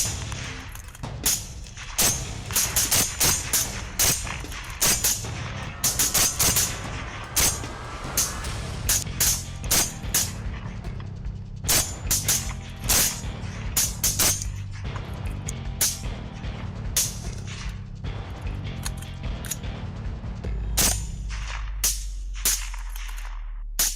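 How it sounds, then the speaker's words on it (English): Rapid gunfire at night aimed at wild boars, dozens of sharp loud shots in irregular bursts over a constant low engine rumble, close and continuous. "crack of gunfire, echoing through the night, sending the boars scattering in fear"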